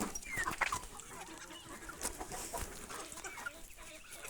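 Poultry, including ducklings, cluck softly in a small flock, scattered calls overlapping at moderate distance with quiet farmyard noise around them.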